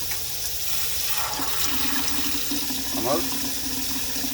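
Water rushes through household pipes after a hot water heater's pressure relief and temperature valve is replaced, a steady loud hiss with sputtering as air clears, while someone says a word.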